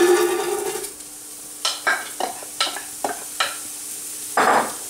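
White onion in a big hot stew pot: an initial hiss fades, then a series of separate scraping, sizzling strokes of a spoon in the pot, fairly close and with no talking.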